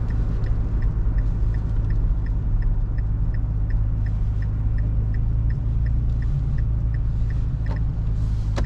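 Steady low exhaust drone from a third-generation Nissan Frontier pickup with an equal-length exhaust, heard from inside the cab while driving, constant and moderately loud with a faint regular ticking above it.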